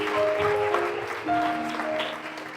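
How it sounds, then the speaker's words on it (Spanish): A church congregation clapping together during a service, a brief burst of steady applause heard in a room, fairly close, with organ-like sustained tones underneath. "¿Le pueden dar un aplauso a la palabra del Señor,"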